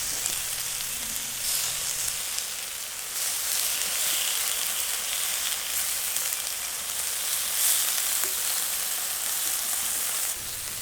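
Bacon frying on a Q griddle outdoors, a dense, steady crackling sizzle like light rain, loud and close throughout with no voices.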